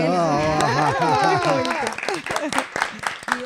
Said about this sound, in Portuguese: Vale uma salva de palmas.